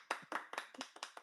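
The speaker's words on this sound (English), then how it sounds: "Let's give him a round of applause." A few people clap in a small round for a guest on a collectibles talk show, with about six distinct, evenly spaced claps that are moderately close and fairly faint.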